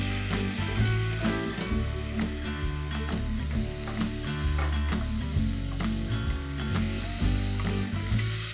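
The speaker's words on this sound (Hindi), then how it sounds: "अब डालेंगे एक बारीक कटा हुआ टमाटर" Finely chopped tomato sizzling as it hits hot oil in a pan while making dahi bhindi, a steady close frying crackle with stirring, layered over continuous background music and no talking.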